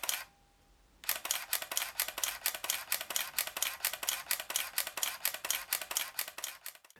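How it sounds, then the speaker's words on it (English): A Konica Minolta Dynax 5D digital SLR fires its shutter in a fast continuous burst, a loud, close, evenly spaced train of mechanical clacks lasting about six seconds after a quiet pause. "As you can hear, it's not the quietest shutter out there."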